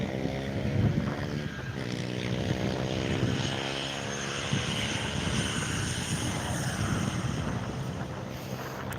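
An Embraer 190 airliner coming in to land at Skiathos, its loud, steady jet roar filling the whole stretch with droning engine tones and gusts of wind buffeting the microphone.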